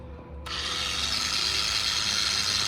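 An SPTA cordless 9mm dual action polisher with a 3-inch pad switches on after a short quiet moment and runs at a steady, loud, dense whine that holds unbroken to the end, with no talking.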